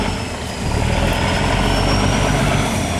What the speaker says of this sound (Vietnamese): Cái lực cái hơi máy này giống cái hơi máy Mitsu quá.